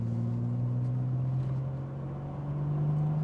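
A 4-litre, 225-horsepower Jaguar XJS engine at full throttle, a steady low drone that rises slowly in pitch as the car accelerates, heard from inside the cabin with no talking.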